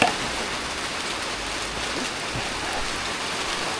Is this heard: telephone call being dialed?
no